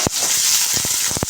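Onion, green chillies and curry leaves fry with cumin in a hot pan for mango dal, giving a steady bright hiss with a few short pops and crackles.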